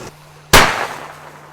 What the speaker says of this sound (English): I'm going to put this in a .30 caliber black powder cannon and see if the pellet with the dye can penetrate a plastic bag full of water.